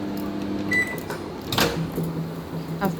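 A microwave oven runs at full power while cashew nuts heat inside, a steady low hum with a faint tonal whine and scattered small clicks and pops throughout, fairly close and without talk.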